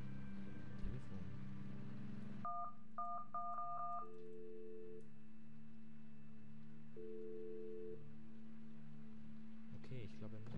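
Telephone keypad tones in a video game: a quick run of short beeps in rhythmic bursts, then two longer steady tones, over a low hum, with a voice speaking briefly at the start and end.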